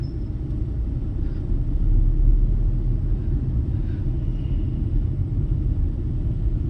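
A Tata Punch car's engine rumbles steadily from inside the cabin as the car pulls away, a low continuous drone that swells briefly and then holds, with no talk over it.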